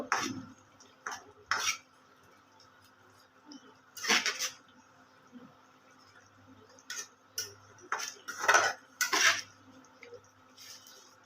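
A spoon stirs hilsa fish and arum curry in a pan, making scattered clinks and scrapes against the metal in irregular bursts, with quiet gaps between the strokes.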